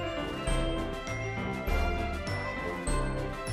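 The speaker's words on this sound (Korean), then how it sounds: "소리와 움직임이 감지가 되면 위쪽으로 푸시 알림이 뜨는데" A soft chime rings from a pet camera monitoring app's push notification, a bright tinkling tone repeating a few times over steady background music, alone with no talk.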